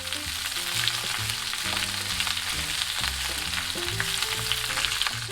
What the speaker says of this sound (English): Please stir fry by mixing to ensure the oil coats them evenly